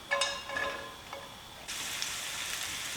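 Onion frying in a pan for a spicy beef strips dish, with a few clinks and stirring taps early on, then a steady soft sizzle that continues without talk.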